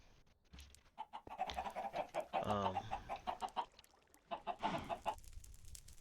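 Chickens in a Minecraft automatic egg farm cluck and squawk in short, repeated bursts, fairly faint, with a brief word spoken once.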